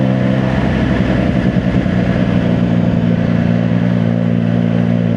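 Triumph Daytona 660 motorcycle with a non-standard exhaust, engine running steadily at a low, even note with a slight rise early on, close and continuous with no talk.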